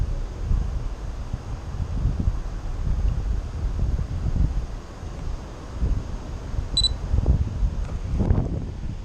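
Strong gusting wind buffets the microphone outdoors near a building site, a continuous loud low rumble with surging peaks throughout and a brief faint high beep near the end.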